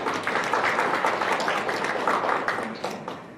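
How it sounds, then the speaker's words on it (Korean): A room full of people applauding steadily at a university Buddhist service, dense overlapping claps that hold for a few seconds and then begin to fade. "모두 감사하는 의미로 박수 한번 주시죠"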